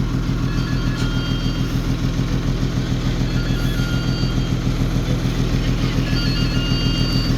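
A motorcycle engine that had sat unused through the rainy season runs steadily at idle, a continuous close, loud rumble with no talking.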